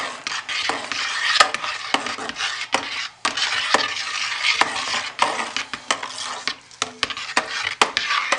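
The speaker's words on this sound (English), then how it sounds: "Stir it in well, hit it again." A spoon stirs a confetti soap mixture in a container, with brisk scraping and frequent sharp clicks and knocks against the sides in an uneven rhythm, close by and with no talk.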